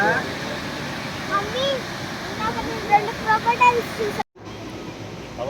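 A steady broadband rush of falling water from Ethipothala Waterfalls near Nagarjuna Sagar fills the background while people talk over it, before a brief cut to a quieter stretch.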